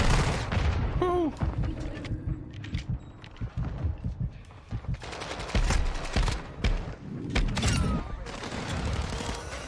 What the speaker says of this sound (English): everything's exploding in there